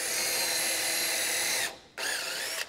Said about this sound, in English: So hopefully we'll drill in the right place the first time.